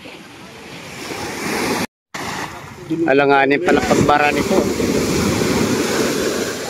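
Rough surf and wind rush over a steady roar of large waves crashing at Tanza, Cavite, where a boat was damaged, with someone talking over it and a brief dropout partway through.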